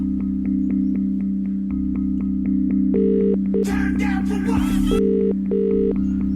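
A steady telephone ringback tone pulses over a low electronic hum as a call goes unanswered, interrupted briefly by a burst of noisy, garbled sound before the tone resumes.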